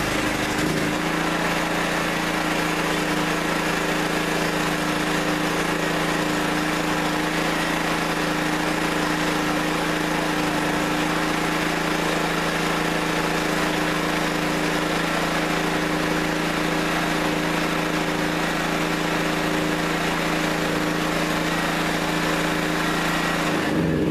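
A Generac 5500 portable generator's engine running steadily, a loud constant droning hum with a strong low tonal buzz that holds unchanged for over twenty seconds, close by and with no one speaking.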